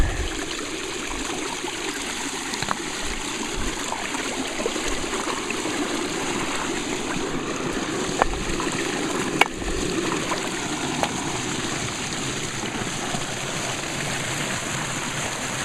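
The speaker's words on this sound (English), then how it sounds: "So I'll open the bypass. Let the water out." Water runs out through an opened bypass, a steady trickling, streaming flow heard close and unbroken, with a few faint knocks.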